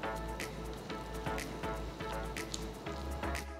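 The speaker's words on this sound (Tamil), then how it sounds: "நான் கொஞ்சம் பால் ஊற்றி மிக்ஸ் பண்ணுறேன்" Milk is mixed into banana dosa batter, making a run of wet squelching, dripping sounds in a steady rhythm, close and fairly quiet, with no talk.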